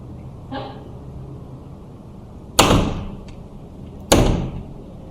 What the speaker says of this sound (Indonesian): Pintu bermagnet.